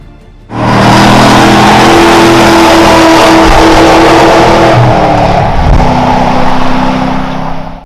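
Race car engine at speed around Sebring International Raceway, heard onboard: a loud, sustained engine roar that starts abruptly and holds a steady high pitch, easing slightly near the end.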